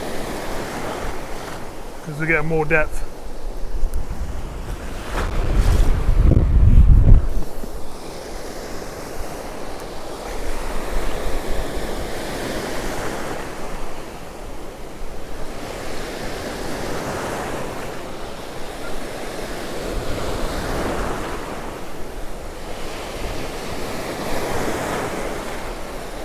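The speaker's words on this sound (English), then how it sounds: "The waves are getting bigger and bigger" Sea waves break and surge on Cromer Beach, with a heavy crash early on and then rolling, hissing surf under gusty wind noise, while someone briefly speaks close by.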